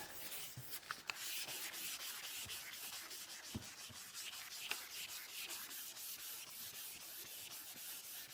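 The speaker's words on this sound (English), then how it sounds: "make sure you sand the way the body line goes" Poly paste body filler is sanded by hand on a Corvette body panel, with steady back-and-forth rubbing strokes that form a close, continuous gritty scratching rhythm.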